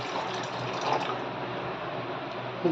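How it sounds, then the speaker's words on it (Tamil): Water poured onto sugar in a pan for syrup while making gulab jamun, a continuous close splashing pour that holds steady for a few seconds and ends with a brief swell. "இப்போ இதுக்கு கொஞ்சம் தண்ணி ஊற்றியாச்சு."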